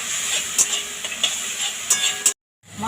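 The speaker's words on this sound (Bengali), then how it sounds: "মশলা ভাজা হয়ে গেছে, মশলা দিয়ে তেল ছেড়ে দিয়েছে।" Spice masala frying in oil in a pan for a Bengali lau muri ghonto, a steady close sizzle with scattered stir clicks, then cutting off abruptly into near silence.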